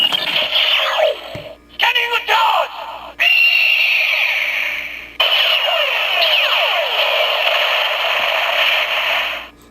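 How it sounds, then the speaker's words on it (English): A Kamen Rider OOO Driver toy plays its loud, screeching phoenix cry effect, harsh and sustained with a few short breaks, filling nearly ten seconds. "Heard the big phoenix yell there?"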